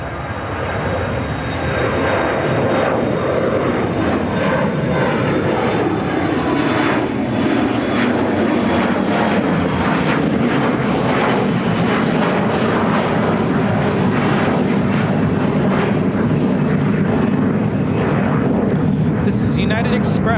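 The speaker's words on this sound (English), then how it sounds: "United Express, operated by SkyWest Airlines 5228, taking off to Columbus on the E175." A SkyWest Embraer E175 jet takes off from Chicago O'Hare, its engines building to a loud, sustained roar with a falling tonal sweep as it climbs away, dominating throughout.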